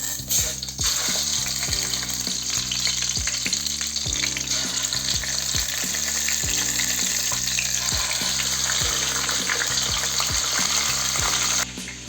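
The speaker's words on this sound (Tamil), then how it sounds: "நெய் ஊற்றிட்டு அதில் இந்த சிக்கனை எடுத்து போட்டுக்கலாம்." Chicken frying in ghee in a pot for Arabian chicken mandhi: a steady, loud sizzle runs throughout, with occasional low clunks and stirring knocks beneath it.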